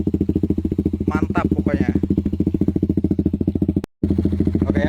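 Suzuki GSX motorcycle fitted with a CLD Monster X aftermarket exhaust idles loud and close, a steady rapid throbbing pulse, while someone talks over it; the sound drops out briefly near the end, then resumes.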